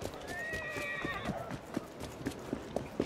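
Runaway horses in Assassin's Creed Syndicate give a long, bright whinny, then hooves clop in a quick, steady galloping rhythm, fairly close and moderately loud.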